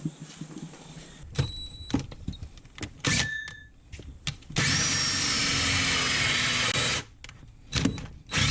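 A power drill bores a hole through a wooden floor for a keg urinal build at a deer camp, running in a long steady whine between shorter bursts and clunks of handling, close and loud with no talking.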